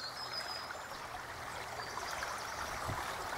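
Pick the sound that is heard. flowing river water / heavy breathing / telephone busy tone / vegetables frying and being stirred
flowing river water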